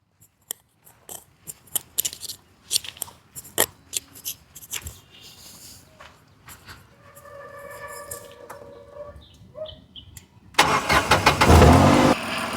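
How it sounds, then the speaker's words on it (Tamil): A run of sharp clicks and clatters leads into a car engine catching and settling into a loud, steady idle close by. "இன்ஜின் ஸ்டார்ட் பண்ணி காட்டுறேன் பாருங்கள்."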